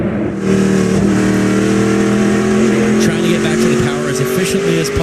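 An SRX race car roars under acceleration at Nashville Fairgrounds Speedway, the loud engine note rising steadily and continuously with faint tire and track noise, while a commentator talks over it.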